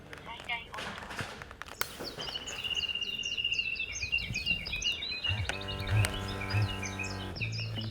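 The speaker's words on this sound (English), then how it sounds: "It's making bird noises" A small electronic gadget from a thrift store plays synthetic bird-call chirps and trills in quick repeated phrases, fairly close and moderately loud, with clicks and handling noise at the start and a few tonal beeps near the end.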